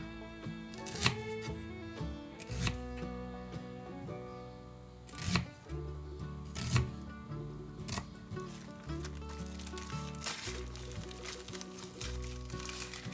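A knife chops onions repeatedly on a cutting board, sharp irregular taps close by and fairly quiet, with no voices.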